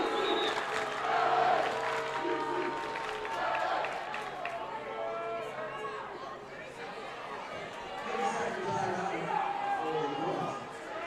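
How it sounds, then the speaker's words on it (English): A loud crowd at a UCLA vs USC women's water polo match keeps up steady cheering and chatter with whistles, while a commentator talks over the noise throughout. "Crowd's still loud, still getting whistles here."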